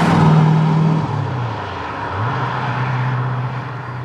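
An Aston Martin DBS V8 engine drones steadily and close while driving, with a deep low rumble that dips around a gear change and then settles into a strong, even hum.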